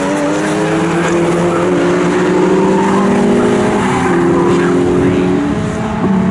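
Race cars howl around the Snetterton circuit in a loud, steady engine roar with shifting pitch, passing close with a brief tire squeal while commentary runs underneath.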